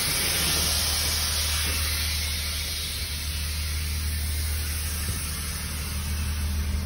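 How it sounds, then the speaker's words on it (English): Air dumping from the airbag suspension of a semi truck trailer hauling a steel coil, a steady loud broadband hiss that runs the whole time over a low engine rumble. "I am going to go ahead and dump the air on my trailer"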